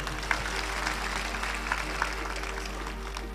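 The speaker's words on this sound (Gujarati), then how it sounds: "એવા સમસ્ત પરિવારને એકવાર જબરજસ્ત તાળીઓના ગરગરાટથી આપણે વધાવશું" Applause from an audience at a katha gathering during a shobhayatra in Vadagam: a steady, dense wash of clapping at moderate distance, fairly soft, over a low electrical hum, with a few sharper claps standing out.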